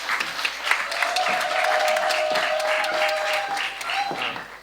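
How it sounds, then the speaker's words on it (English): An audience at a zero waste conference claps steadily for a few seconds, dense even applause at moderate distance with a faint tone running underneath. "Please give him a round of applause."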